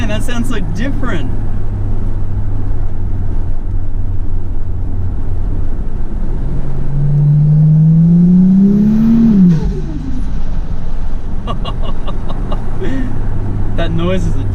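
A tuned Ford Falcon FG Turbo engine idles with a steady low drone, then revs up in one smooth rising sweep that peaks and drops back, close and loud, with brief voices around it.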